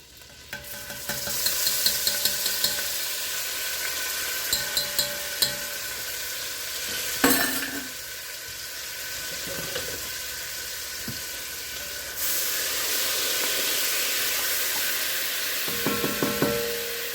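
Two tablespoons of minced garlic sizzling in half a stick of melted butter in a pan, a steady broadband hiss with occasional scraping stirs and knocks of a utensil, no voices.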